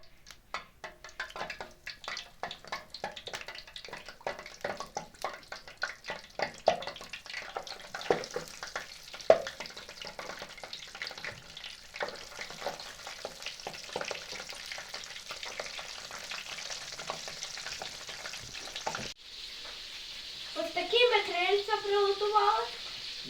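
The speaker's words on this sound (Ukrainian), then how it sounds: "Коли олія розігріється, то ми кладемо крильця до готовності." Chicken wings fry in hot oil in a pan, a steady crackling sizzle with bursts of spattering and occasional stirring scrapes, heard up close and moderately loud, with a short stretch of talking near the end.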